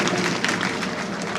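A live stage program audience applauds in a dense, steady patter of clapping that fills the space for a moment.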